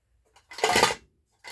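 A short metallic clatter and scrape of tins being moved, close and brief, with a fainter rattle following.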